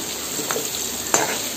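Chilli chicken pieces, pakora-style, frying in a pan with a steady close sizzle, broken by two quick stirring scrapes as the pieces are lifted out.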